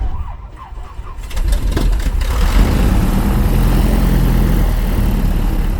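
The piston engines of a Piper Aztec twin airplane start with a few uneven coughing firings, then build within seconds to a loud, steady, close roar that holds to the end.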